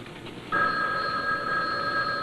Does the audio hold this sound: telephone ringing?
yes